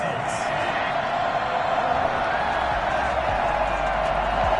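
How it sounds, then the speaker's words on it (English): A packed NFL stadium crowd at a 2024 Steelers vs Browns game reacts to a penalty flag thrown on third down with a steady, sustained roar, while a commentator's voice talks over it. "Well, the crowd doesn't like that."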